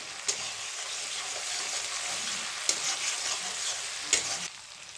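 Spice paste with ginger sautés in a pan with a continuous close sizzle, broken by three sharp scraping stirs, and the sound softens at the very end.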